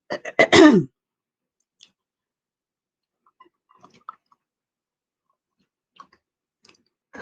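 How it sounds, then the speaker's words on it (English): A short, forceful throat clearing up close, followed by near silence with a few faint, scattered ticks. "Let me clear my throat."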